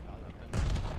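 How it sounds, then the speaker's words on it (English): A video game RPG launch lands as a sudden heavy boom halfway through, loud and close, following a moment of quieter game ambience. "Second RPG shot."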